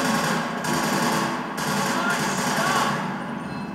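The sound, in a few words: assault rifle gunfire in the video game Killzone 2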